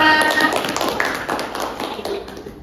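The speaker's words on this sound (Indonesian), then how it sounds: "Kita beri aplaus untuk Anita" Classroom applause: a burst of hand clapping from a group of students, loud at first and then tapering off over a couple of seconds.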